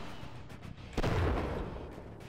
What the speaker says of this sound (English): I was trying to use the cannon and the machine gun at the same time.